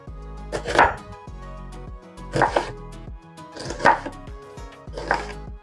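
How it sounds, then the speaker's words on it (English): Knife chopping an onion into smaller pieces on a board, heard as four distinct bursts of firm cuts spaced about a second and a half apart, close and clear with no voices. "I'm just going to cut this onion into smaller pieces also"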